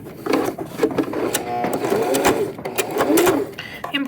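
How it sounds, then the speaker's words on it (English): Sewing machine topstitching beside the bias binding on a woven T-shirt, a steady mechanical needle rhythm with regular pulses running throughout, a voice talking over it. "we're going to stitch from the top and stitch about 1/16 of an inch away from the bias binding connection"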